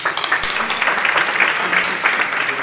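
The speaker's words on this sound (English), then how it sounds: "So please, another round of applause." Audience applause at a conference keynote session, a loud, dense burst of many hands clapping that carries steadily through the brief moment.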